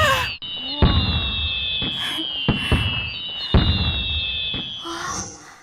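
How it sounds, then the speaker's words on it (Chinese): A big fireworks show booms and crackles with repeated loud bursts at a steady pace, each thump trailed by a bright shimmering fizz, close and powerful throughout. "这烟花秀也太震撼了，一辈子都没见过这么盛大的场面。"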